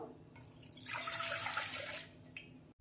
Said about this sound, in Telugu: ఇప్పుడు మనం ఇలాంటి డేష ఒకటి తీసుకొని దీంట్లో ఒక గ్లాస్ నీళ్ళు వేసుకుందాం